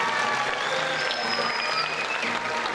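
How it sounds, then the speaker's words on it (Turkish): A crowd applauds with continuous, dense clapping at a steady, fairly loud level, with faint voices and whistles mixed in. "Alkış."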